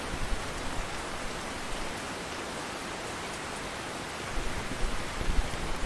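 Steady rain falls across a river fishing spot in Russian Fishing 4, a dense even hiss of drops on water and ground throughout, with a slightly stronger patter toward the end.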